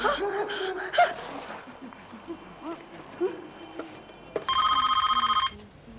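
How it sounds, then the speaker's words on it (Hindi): Electronic telephone bell trills in a rapid pulsing burst near the end of a busy room scene on a Hindi TV sitcom set, after scattered voices and light laughter. "प्रेमा जी को फोन कर"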